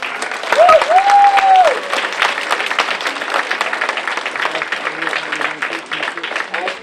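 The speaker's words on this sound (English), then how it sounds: "can we give another round of applause to Councilman Jones?" A round of applause at a Ward 7 community event honoring a city councilman, steady crowd clapping sustained throughout, with a voice briefly speaking over the start.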